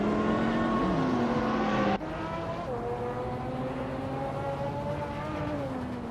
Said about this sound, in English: Mare Pinkwolf just overtook 1 car to sit in 4th place